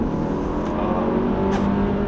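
A 2018 Porsche Macan base with a four-cylinder engine and PDK transmission works hard through corners, its engine note a steady, loud droning hum heard from the cabin, with no talk.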